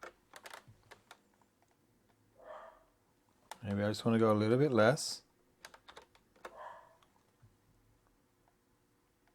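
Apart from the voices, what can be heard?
typing on a computer keyboard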